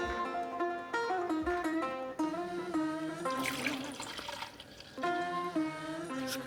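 Bourbon pours into a measuring cup with bubbling, glugging liquid sounds in short bursts, partly masked by melodic background music.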